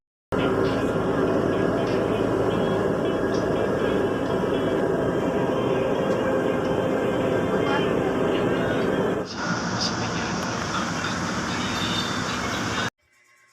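A crowded passenger train hums along with a steady, dense rumble and rattling. A voice speaks over the rumble, and the noise shifts partway through before cutting off near the end.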